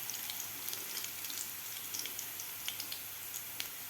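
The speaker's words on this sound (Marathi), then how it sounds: "त्यामध्ये लसूण थोडासा आपल्याला कलर बदलीपर्यंत फ्राय करायचा आहे" Crushed garlic fries in hot oil in a pan for dahi kadhi, a faint, steady sizzle with light scattered pops and crackles throughout.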